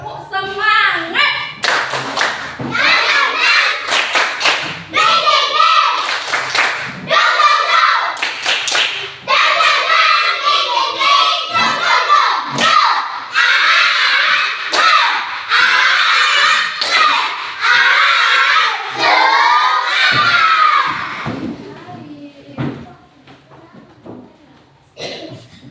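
Children in a classroom perform a rhythmic spirit clap, tepuk semangat, sharp loud patterned claps and slaps in sequence with chanting voices over them, running for most of the stretch before tapering off near the end.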